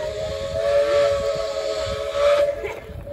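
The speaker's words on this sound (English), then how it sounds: "I can hear the train." A steady, piercing steam train whistle on the Zig Zag Railway sounds continuously over a hissing background in snowy weather, holding its pitch for a few seconds before fading out.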